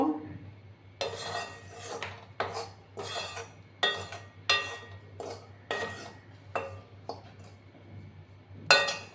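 Wheat flour dry-roasting in a pan, heard as repeated metallic scrapes and knocks of a spatula against the pan in irregular bursts, close and fairly loud with short pauses between strokes.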